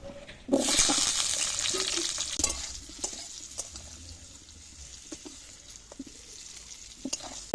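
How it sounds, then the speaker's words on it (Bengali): Potatoes frying in oil in a home kitchen pan, following fried eggs, give a loud burst of sizzling that settles into a steady hiss, broken by occasional stirring clinks and scrapes. No one speaks. "ডিমের ধরে আলুটা ভেজে নেব"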